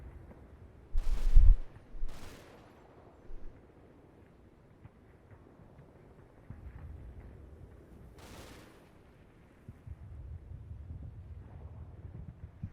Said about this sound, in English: you've probably got some MG fire going out at it.